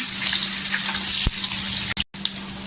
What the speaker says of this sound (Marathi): छान असं तेल गरम झालेलं आहे इथे बघा आपण तेलामध्ये टाकायचं छान असं आणि चलून घ्यायचं